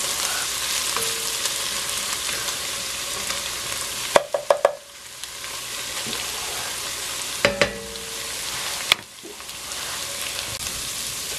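Ingredients for Mexican rice sautéing in a pan, a steady close sizzle with a few bursts of spatula scraping and clicks against the pan, and brief dips when stirring pauses, no one talking.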